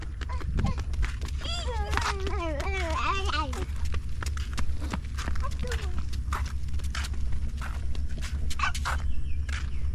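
A chicken gives a short run of warbling, clucking calls close by at the Kampung Igan waterfront in Mukah, Sarawak, alongside a voice and footsteps, with background rumble throughout.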